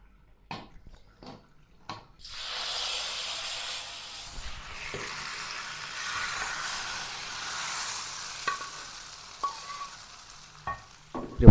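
Khichuri sizzles and hisses in a pot in a small home kitchen, with a few sharp clinks of a spoon on metal before a steady fry sets in and scraping stirs continue beneath it.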